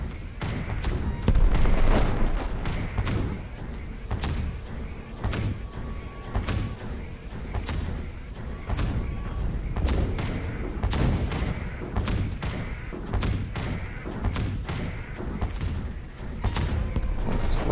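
The 50 mm guns of the Blackbird mech in OVRLRD 12 fire in rapid, repeated heavy thumps and booms, loud and close, forming a dense sustained barrage.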